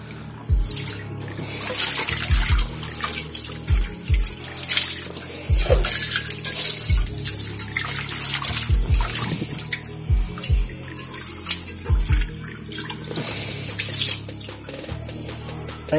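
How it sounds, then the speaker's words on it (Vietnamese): A nonstick frying pan is scrubbed with a sponge under running tap water, a steady rush of water broken by repeated splashes and scrubbing swishes, close and fairly loud with no speech. "Ta có thể sử dụng bọt biển để mình vệ sinh nhé."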